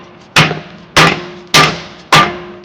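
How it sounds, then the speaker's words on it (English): A rubber mallet strikes solid subframe bushings into an S13 Nissan 240SX drift car build, giving four sharp, close, evenly spaced knocks about half a second apart. "hammer them in until they're nice and flat"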